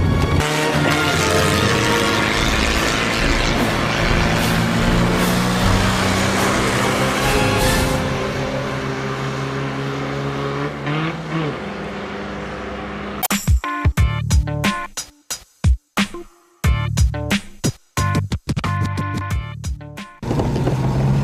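A Fiat car drives around corners, its engine droning loudly and continuously for about thirteen seconds before breaking into choppy bursts with gaps of near silence.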